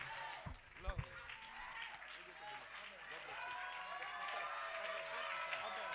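Church congregation clapping and cheering at a French-speaking worship service, with two sharp thumps near the start, then sustained applause and crowd noise beneath a voice talking.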